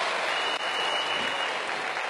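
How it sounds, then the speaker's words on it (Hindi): Enthusiastic applause from a Vestige Marketing meeting audience, a brief dense burst of clapping at steady loudness with no voices over it. "सबसे पहले वेस्टेज मार्केटिंग के लिए जबरदस्त ताली हो जाए।"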